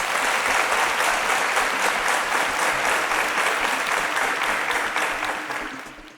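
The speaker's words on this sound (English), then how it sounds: "A round of applause." A studio audience at a televised science quiz show gives a sustained round of applause for contestants who answered correctly, dense and even for about six seconds before tapering off at the end.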